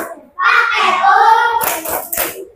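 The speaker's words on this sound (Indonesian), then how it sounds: "Kasih tepuk WOW untuk kelompok 2." A third-grade class does the rhythmic WOW clap pattern for a group during a science lesson, several rounds of hand claps mixed with children's voices calling out, loud and close.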